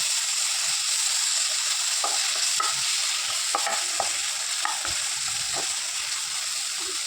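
Tomatoes being sautéed and stirred in a pan for a fish roe dish, a continuous bright sizzle with scattered soft scrapes and clicks of the spoon through the pan, close by.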